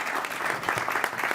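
Conference audience applauds a speaker, a dense steady wash of clapping from a crowd in a hall, brief and unbroken.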